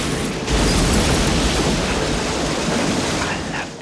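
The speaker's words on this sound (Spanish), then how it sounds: "él arma un explosivo con algunas cosas que tiene a mano y el explosivo es tan pero tan poderoso que destruye" A huge blast from a Stallone action film, a homemade explosive wrecking an entire room, roaring as a sustained, loud, dense rumble that swells quickly and slowly fades over several seconds.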